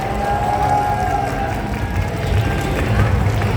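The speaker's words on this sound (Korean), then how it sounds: "다시 한번 큰 박수 부탁드리겠습니다" Audience applause and cheering in front of the Blue Stage at AGF 2025 Korea, a thick, continuous roar of clapping from a large crowd that holds steady throughout.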